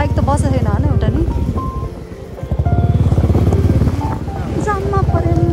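Motorcycles come and go on a road in a traffic jam, their engines droning and revving loudly and close by, with voices talking over the engine noise throughout.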